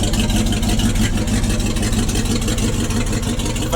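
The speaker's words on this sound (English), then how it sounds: "There she is, rattling away." A 1973 Ford Ranchero GT with its factory numbers-matching 351 Cobra Jet V8 and four-speed runs steadily nearby, a loud continuous rumbling, rattling idle with no talk over it.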